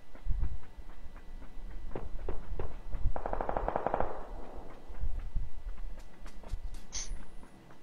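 MG3 machine gun fire in the game PUBG, several sharp bursts and rapid rattling volleys in an irregular rhythm, with a dense stretch of continuous fire partway through and no talking.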